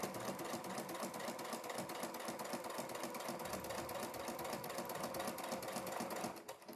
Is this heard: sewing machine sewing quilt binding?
yes